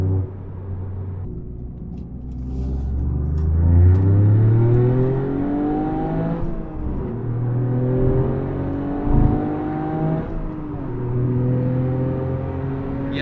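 A Toyota GR Yaris fitted with a custom exhaust revs repeatedly, the engine note climbing and falling in several rising sweeps with a deep rumble, heard up close and alone.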